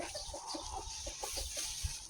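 Soft, scattered clucking from a few chickens close by in a chicken run, with a low thump or two underneath and steady background hiss.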